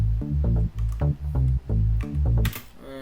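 Layered synth bass built in FL Studio, deep sustained low notes pulsing in a steady rhythmic pattern with brighter stacked upper layers, ending in a short noisy sweep, loud and alone with no talk.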